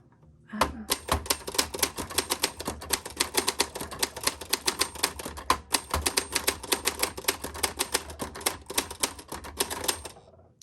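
Brisk, steady typing on a 1962 Olympia Splendid 33 manual typewriter, rapid sharp key strikes for about ten seconds, close and clear, with no talking.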